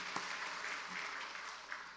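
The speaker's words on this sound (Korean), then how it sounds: "우리 감사함으로 박수 한번 하실까요?" A church congregation applauds during a Sunday morning service, a soft, diffuse, continuous patter of many hands heard at a moderate distance.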